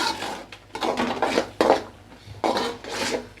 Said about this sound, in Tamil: இப்போ நம்ம நண்டை வந்து இதில் ஆட் பண்ணிடலாம்.